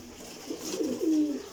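Pigeons coo in a low, throaty series of rounded calls, rising and swelling toward the end, heard close and alone over a faint airy background at a breeders' loft.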